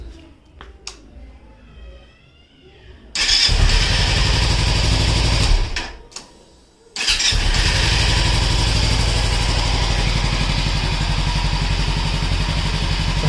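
A Kawasaki Ninja 300 motorcycle engine cranks and fires up loudly, runs briefly, dies, then starts again and settles into a steady, rumbling idle close by.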